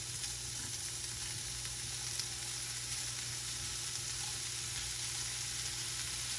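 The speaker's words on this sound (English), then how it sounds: "And then I just add the hot links to the skillet to get those nice and" Hot links browning in a skillet with non-stick spray, a steady close sizzle and crackle of frying that holds without a break.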